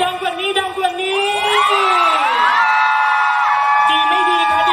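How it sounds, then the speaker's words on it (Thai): A crowd at a film press conference cheers and whoops for the actors, loud sustained shouting with rising and falling voiced cries layered over a continuous roar. "ก็เสียงปรบมือให้กับนักแสดงของเราค่ะ"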